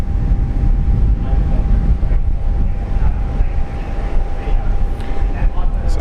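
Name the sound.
China Southern airliner departing Brisbane for Guangzhou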